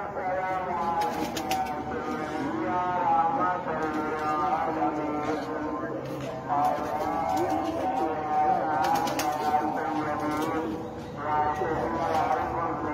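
Rare Sialkoti pigeons coo in soft, repeated throaty calls beneath someone talking steadily nearby.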